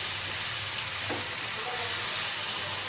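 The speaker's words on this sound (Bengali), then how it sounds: "মশলাটাকে আমরা আরো 2 মিনিট মতন মিডিয়াম ফ্লেমে কষিয়ে নেব।" Spice masala frying in a pan on medium flame, a steady soft sizzle and hiss with faint stirring, close and continuous with no talk.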